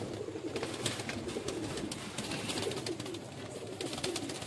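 Breeder pigeons coo together in a loft, a thick, unbroken bed of low overlapping calls from several nearby birds, moderately loud and without any voices.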